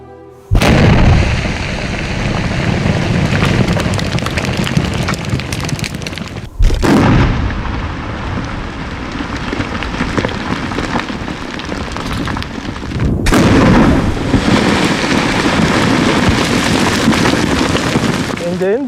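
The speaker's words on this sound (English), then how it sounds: "So after 5 minutes, the blasting will be gone by the explosive person." Explosive rock blasting at an emerald mine in Ethiopia comes through as loud, sustained rumbling roars, with sharp new surges at three points and no pause between them.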